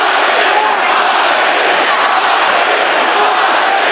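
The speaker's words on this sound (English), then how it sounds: "the capacity crowd here continuing to cheer" A capacity boxing arena crowd at a cruiserweight title fight roars in a steady, loud wash of cheering and yelling, with a commentator talking over it.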